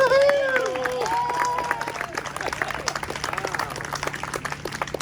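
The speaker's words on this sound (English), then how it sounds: "let's give her a clap real quick" A crowd claps for a few seconds, a burst of scattered applause following a brief voice, fading out toward the end.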